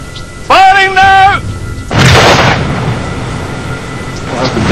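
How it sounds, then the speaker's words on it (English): A shaped charge detonates to blast through a 1.5-inch steel plate outdoors, a sudden loud broadband burst that gives way to a rumbling decay, with a brief tonal sound just before it. "The ground is scarred by the tremendous force of the explosion."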